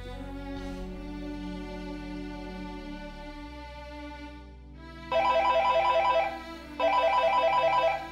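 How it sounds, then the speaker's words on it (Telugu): A phone rings with an incoming call from Paul, its electronic ringtone sounding in two loud bursts over a steady background music bed, with no talking. "పౌలన్న కాల్ చేస్తున్నాడు."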